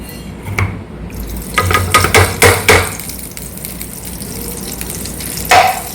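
Pumpkin paste with cardamom cooks in ghee, giving a soft sizzle under several louder scraping and clattering strokes of a spoon against the pan, close and uneven.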